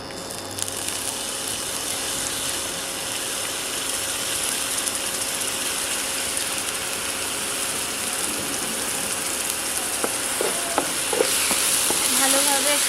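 Whole cumin and ground spice paste fry in a little oil in a wok, a steady sizzle with rattling metal scrapes from stirring near the end.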